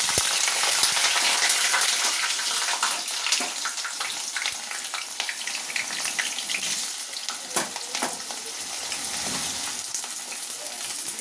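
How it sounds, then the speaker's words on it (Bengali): Potatoes frying in hot oil in a kadai, a loud, dense and steady sizzle with bubbling spatter and occasional stirring knocks, close up and without voices. "এই দেখো আমার কড়াতে তেল গরম হয়ে গেছে, এবার আমি আলুগুলোকে ছেড়ে দেবো এর মধ্যে।"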